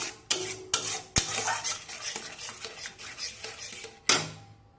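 A spoon clinks and scrapes in a pan as whisked yogurt with a little cornflour is stirred into Bengali potol rezala, a pointed gourd curry, giving repeated sharp knocks and a steady scraping stir, close and alone.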